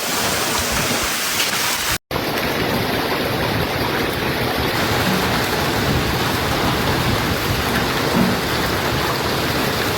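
Heavy rain pours steadily during a severe summer storm in Jelenia Góra, Poland, with thunder rumbling low beneath a dense, continuous roar of downpour and a brief dropout near the start.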